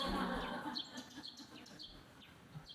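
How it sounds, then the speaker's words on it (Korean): Sparrows chirping in short, scattered high tweets at moderate distance, faint against a soft background with some low murmuring. "참새도 법문 들어왔네."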